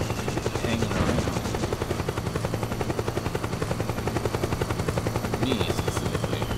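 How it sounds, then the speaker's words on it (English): A helicopter hovers in the Metal Gear Solid 4 video game, its rotor chopping in a fast steady pulse throughout at fairly low volume, with faint gunfire-like bursts mixed in. "Helicopter sounds like it's hanging around."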